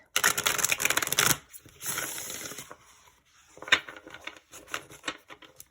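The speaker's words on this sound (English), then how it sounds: "Just want to do like one more shuffle for you" Tarot cards shuffled by hand in a loud riffling burst, then softer rustling and a few quick flicks and taps, close up with no talking.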